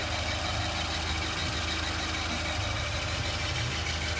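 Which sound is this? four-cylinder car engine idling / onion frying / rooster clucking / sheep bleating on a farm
four-cylinder car engine idling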